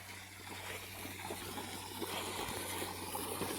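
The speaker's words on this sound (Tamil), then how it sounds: "சொட்டு நீர் பைப்பில் பாருங்கள் எப்படி தண்ணி பீச்சு அடிக்குதுன்னு" Water hisses and sprays steadily from a drip irrigation pipe under full pressure, a faint continuous rushing sound over a low background hum, with no voices.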